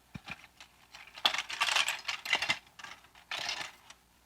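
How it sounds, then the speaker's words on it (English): Metal biscuit cutters of many shapes and sizes rattle and clink inside a container, shaken in several short bursts of jangling metallic clatter, close and fairly loud, with no voices. "That's my biscuit cutters in here, see?"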